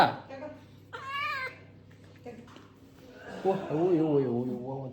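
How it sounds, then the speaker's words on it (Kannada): A cat meows several times indoors at a home, with a short high call early on and longer, wavering meows later, while people talk around it. "ನಮ್ಮ ಮನೆಗೆ ಬೆಕ್ಕು ಬಂದೈತೆ. ಬೆಕ್ಕು ಒದ್ದಾಡ್ತೈತೆ."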